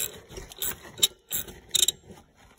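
A wrench works loose the single tensioner pulley bolt on a 2001 Hyundai Tiburon 2.0 engine, giving a few short, fairly faint bursts of ratcheting clicks separated by quiet pauses.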